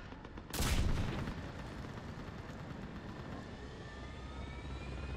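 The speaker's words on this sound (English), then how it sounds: "Get that gunship moving!" Gunfire bursts loudly near the start of a Mass Effect battle scene, followed by a sustained roaring engine drone of a gunship flying overhead that stays steady to the end.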